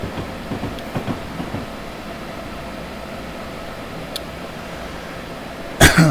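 An Amtrak ACS-64 electric locomotive runs in Train Simulator 2021 with a steady, fairly loud rumbling hum and faint clicks, ending in a louder burst of noise.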